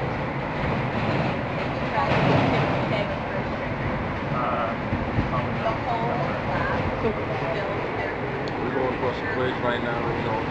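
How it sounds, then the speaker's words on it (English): Train rumbling past with a continuous dense roar and rattling noise throughout, fairly loud, with faint voices underneath. "the train is passing"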